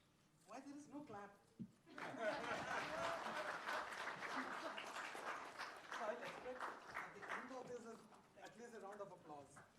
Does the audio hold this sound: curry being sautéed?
no